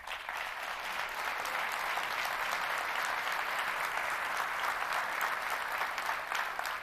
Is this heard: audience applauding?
yes